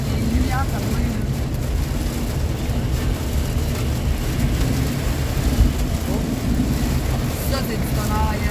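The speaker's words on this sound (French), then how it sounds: "Ça, c'est du tonnerre, gang." Thunder rolls through a storm with rain, a loud continuous low rumble and hiss filling the whole stretch, with some voices faintly present.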